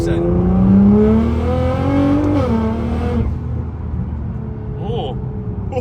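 A Nissan GTR accelerates at 30% throttle in second gear, with a loud engine tone that climbs steadily, dips at a gear change and then settles into a quieter cruise. It is heard from inside the car.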